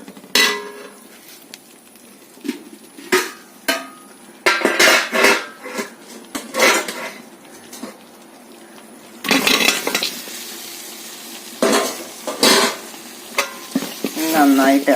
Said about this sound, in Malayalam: നമുക്കിനി ഇതിലേക്ക് ബീഫ് കുടഞ്ഞിട്ട് കൊടുക്കാം.